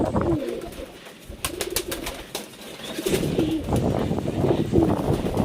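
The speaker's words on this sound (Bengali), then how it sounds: "একটি লহরি সিরাজির পেয়ার, এই যে দেখতে পাচ্ছ এখানে দানা খাচ্ছে" A pair of Lahori Sirazi pigeons pecking at grain, with soft cooing and low bird murmurs that continue throughout, alongside faint pecking and brief clicks and taps close by.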